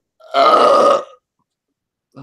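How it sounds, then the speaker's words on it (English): After drinking soda, a person lets out one loud, drawn-out burp lasting under a second, close to the mic, followed by silence. "I hate burping soda and it goes up my nose."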